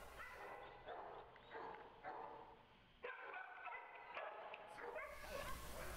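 Several dogs bark, yip and whimper in repeated bursts, fairly close and steady throughout, with no one talking.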